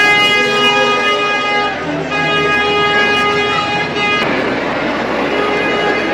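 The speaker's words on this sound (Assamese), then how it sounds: "এইখন ট্ৰেইন।" A train ride inside the crowded Pentagon mall gives off a loud, sustained tonal horn-like drone that shifts pitch a few times, over a busy indoor crowd murmur.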